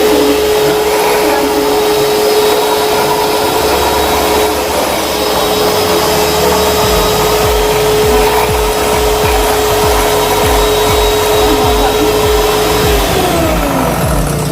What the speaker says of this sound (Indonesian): Ini kenapa juga pakai mixer?